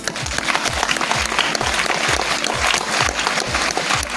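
Seminar audience in Gonda clapping steadily and loudly for several seconds, a dense continuous patter of hands with a low rhythmic thumping beneath, no voices standing out.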